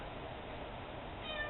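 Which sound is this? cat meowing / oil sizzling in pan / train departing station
cat meowing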